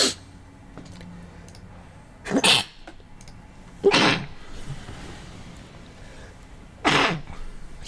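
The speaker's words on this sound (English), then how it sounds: "Sneezing up a storm here." Three separate sneezes from a person, well spaced, fairly close and loud over a quiet room, with no talking between them.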